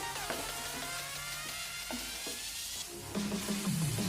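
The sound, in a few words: chicken with taro and potatoes frying, stirred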